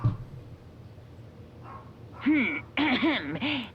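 A dog barks close by in a quick run of sharp, pitched barks and yips near the end, after a stretch of quiet room noise.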